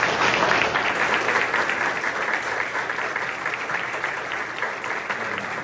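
Sustained audience applause at a school or community event, loud and steady throughout with dense clapping that tapers slightly toward the end.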